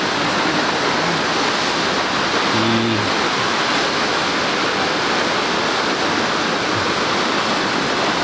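The roughly 100-metre Quetzalapan waterfall pours in a constant dense roar, loud and unbroken, with a brief faint voice barely audible beneath it.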